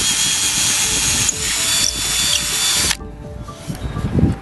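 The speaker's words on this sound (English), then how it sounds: "With your 1/4 inch drill bit, go ahead and get that and drill it into your other hole." A power drill with a 1/4 inch bit whirs loudly and steadily for about three seconds, bites in with a grinding edge, then cuts off, leaving quieter rustling and handling noises.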